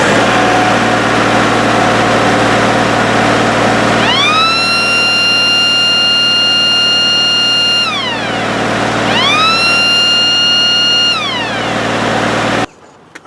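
A siren horn mounted on a running Kubota L3301 tractor winds up to a loud, steady wail, holds, drops away, then rises and holds again over the constant drone of the tractor engine before cutting off.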